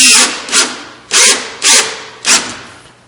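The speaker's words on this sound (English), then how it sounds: "You see how my drill went like that, so we know that's tight" A power drill drives a screw into a wooden nightstand face frame in four or five short, loud bursts, the last ones ending abruptly as the screw seats tight.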